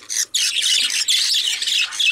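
A protective parent bird squawks loudly and harshly at close range, a continuous raspy call with one brief break near the start.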